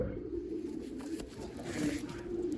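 A large pet pigeon coos close by, low throaty murmuring calls repeating over soft background rustling.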